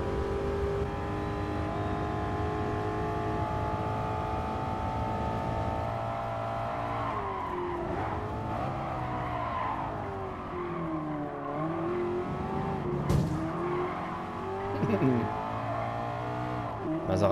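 A BMW E30 engine drones steadily while driving in Gran Turismo Sport, with shifting pitch and revs under ongoing talk, and a sharp short bang near the end.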